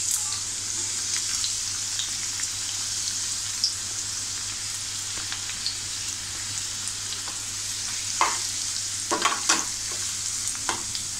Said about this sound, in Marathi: थोडं आपल्याला मिरची परतून घ्यायची आहे. तर आपण त्यात कांदा टाकूया.